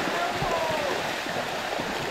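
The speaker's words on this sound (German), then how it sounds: "Schaut euch die Strömung an" Cool, clear river current rushes steadily during a river tubing tour, a constant broadband wash of flowing water that fills the whole stretch with no breaks; faint voices may sit beneath it.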